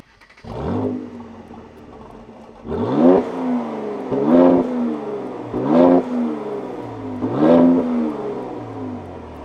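Tuned Mercedes C43 AMG and tuned Infiniti Q60RS cars in a drag race, with loud engine revs that rise repeatedly through gear changes, each climb cut short and restarted; no talking.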